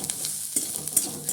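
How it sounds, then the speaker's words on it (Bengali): Chopped garlic frying with onions in a pan, a soft steady sizzle broken by light scraping stirs, quiet and close, with no talking. "এবার আমি দিয়ে দেবো রসুন কুচিটা। রসুন কুচিটা দিয়েও ভালো করে ভেজে নেব।"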